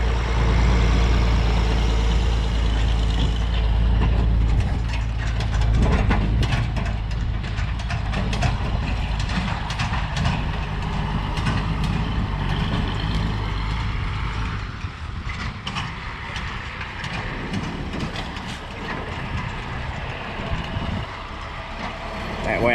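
Oliver tractor swinging around and pulling in to park during wheat planting, a loud, close diesel engine rumbling steadily throughout with some rattling mechanical clatter.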